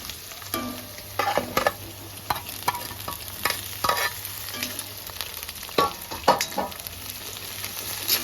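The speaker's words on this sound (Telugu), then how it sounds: "ఉల్లిగడ్డల పాటే ఉల్లిగడ్డలతోనే కొంచెం ఫ్రై చేసుకోవాలి రొయ్యల్ని" Prawns fry with onions in a pan for a gongura prawn curry, a soft continuous sizzle under repeated close clinks and scrapes of a spoon stirring, with no speech.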